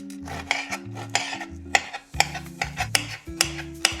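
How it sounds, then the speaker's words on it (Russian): Rapid knife chops through an onion on a cutting board, a steady series of sharp clicks and thuds, close and clear with no talking. "Так режем весь лучок."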